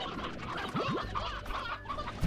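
Paint hens cluck in the Slime Rancher video game, a few short clucks over steady background game sound and music.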